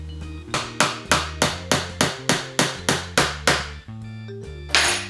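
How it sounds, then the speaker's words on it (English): Hammer driving nails into a wooden farmhouse-style tray, about a dozen sharp, evenly spaced metallic strikes close up, each ringing briefly before the next, no talking. "nail into here, and then of course along the sides of the board and towards the back"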